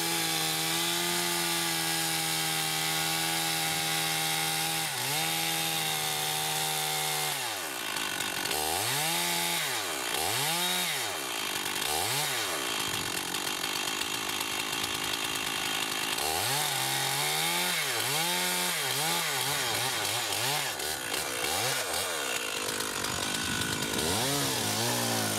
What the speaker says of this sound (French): début de la réalisation du trait de scie arrière en vue de l'abattage du tronc.